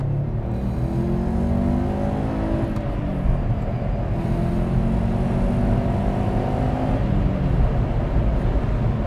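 A Subaru Impreza GT pulls in second gear from low speed, its engine note climbing steadily and loudly inside the cabin, easing briefly, then rising again in a continuous rumbling drone.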